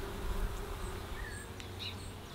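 Honey bees hum in a dense, steady buzz around an open hive, with individual insects zipping past up close over the constant drone.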